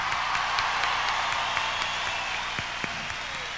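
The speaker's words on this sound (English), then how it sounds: "give yourselves a nice round of applause" Concert audience in London in 1989 applauds, a dense and sustained wash of clapping that sounds somewhat distant and steady, with a few sharper claps standing out.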